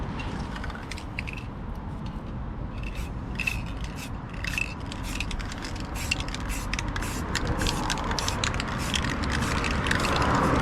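Aerosol spray can coating a rusty car door sill with lacquer, a steady close hiss running throughout with repeated short rattling and scraping bursts.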